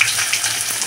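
Chopped onion lands in hot oil with spices, cardamom and cloves, bursting into a brief bright sizzle that hisses steadily for under a second, close and without any talk.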